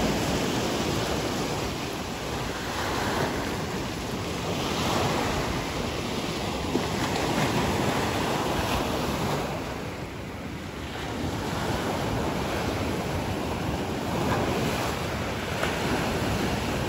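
Ocean waves surge and wash ashore at high tide on Kamari Beach, Santorini, a steady broadband roar that swells and eases slightly, with wind buffeting the microphone and no voices.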